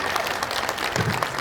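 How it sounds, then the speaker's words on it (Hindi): Brief burst of applause from a church gathering at a Palm Sunday procession in Bareilly, many hands clapping in a dense, steady patter that fills the short moment without speech. "तालियां।"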